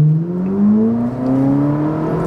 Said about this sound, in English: Man, that exhaust.